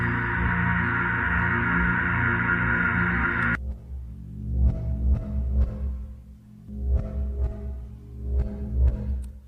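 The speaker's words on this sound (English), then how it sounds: "I'm also going to put a ton of reverb on it." Instrument tone drenched in heavy reverb, a steady dense texture that cuts off abruptly, followed by sparse reverberant notes swelling and decaying in long washes with no talking.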